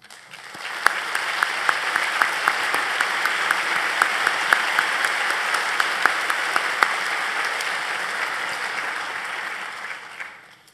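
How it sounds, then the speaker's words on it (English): Large audience applauding at a 2017 university convocation, a steady wash of many hands clapping that swells and holds for about ten seconds with a few sharper nearby claps, then fades at the end. "I'd like to ask my team to stand so we can give them a round of applause"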